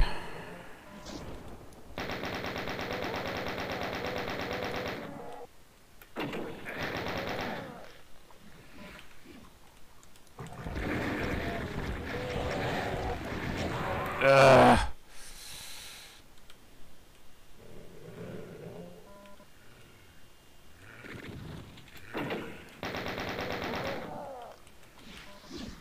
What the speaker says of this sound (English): Perforated by a chain gunner.